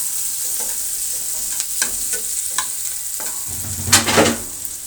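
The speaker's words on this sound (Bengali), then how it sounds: "পেঁয়াজ কুচিটা একটু নেড়ে এটাকে একটু ব্রাউন কালার করে নিতে হবে।" Chopped onions fry in hot oil, a constant close sizzle broken by scraping stir strokes, with a louder clatter and burst of hiss near the end.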